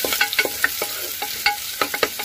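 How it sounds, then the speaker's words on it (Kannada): Onions frying in a pan for methi pulao, with a soft steady sizzle broken by quick scraping stirs of a spoon, close and alone. "ನೋಡಿ, ಈಗ ಈರುಳ್ಳಿ ಹಾಕಿದ್ದೀನಿ."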